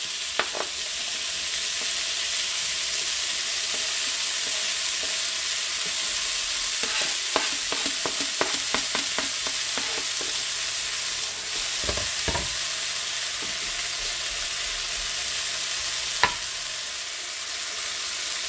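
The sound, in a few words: rice and carrots sizzling and being stirred in a pan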